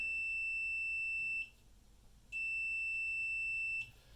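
A multimeter's continuity beep on a scooter battery: two sustained, piercing electronic tones, each lasting over a second, separated by a short gap in an otherwise quiet room.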